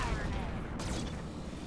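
Mech weapons fired at a turret in the Roguetech video game, a dense continuous roar of blasts and rumbling explosions with a brief whooshing sweep partway through, loud and sustained.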